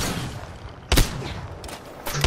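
Gunfire in the battle game Apex Legends, a short, loud burst of overlapping shots over a dense, busy game soundscape, with another brief volley near the end.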